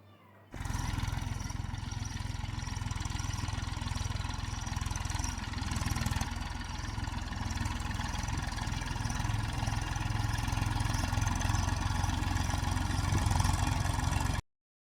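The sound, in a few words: Massey Ferguson 241 DI tractor engine idling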